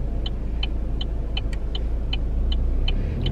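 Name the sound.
car driving on a road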